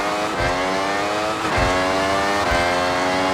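Italian car engine lapping a circuit in the racing video game Forza Horizon 6, a loud steady high-revving drone with harmonic whine and brief dips at gear shifts, no talk.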